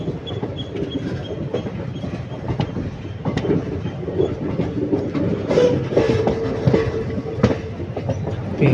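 A passenger train rumbles steadily along the rails between Karur and Palakkad in southern India, with rhythmic clatter and a faint wheel squeal on a curve, heard from inside a moving carriage.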